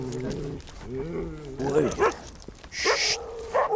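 Alaskan Husky crossbred sled dogs, part of a team of 38 trained to run on ice for the Mongolian winter, give yelping barks and whines close by, with someone talking over them.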